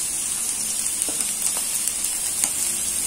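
Chopped tomato drops into a pan of frying onions for a bhindi (okra) dish, giving a steady soft sizzle with a few light crackles and pops, close and fairly quiet, with no talking.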